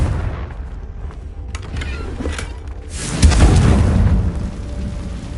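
A Confringo fire spell bursts in Hogwarts Legacy gameplay, a deep booming blast that swells loud and low after a few quieter crackles, rumbling on for a couple of seconds.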